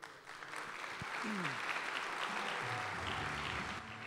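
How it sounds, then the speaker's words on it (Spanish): A live audience claps along to a Paraguayan polka, a sustained, even wash of many hands filling the room, with some musical tones and faint voices underneath. "¿Me acompaña con las palmas?"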